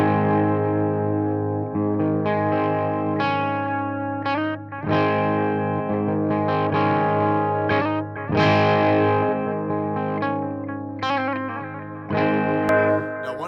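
Electric guitar through a Marshall Vintage Modern amp with slap delay, played at low gain with crunchy chords and single-note licks, each attack followed by a short quick repeat, steady and close with no voices.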